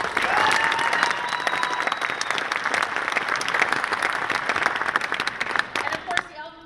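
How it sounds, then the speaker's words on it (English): An audience at a California Republican gubernatorial debate applauds steadily, with dense clapping over a low crowd murmur and some faint whistling. It tapers off near the end. "Let's give them a round of applause."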